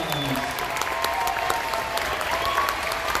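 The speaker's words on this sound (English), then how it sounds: "Go ahead and give them a round of applause." An audience at an elementary school awards ceremony claps for third graders, giving dense, steady applause that fills the room throughout at a loud, even level.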